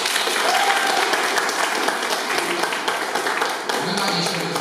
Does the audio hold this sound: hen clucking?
no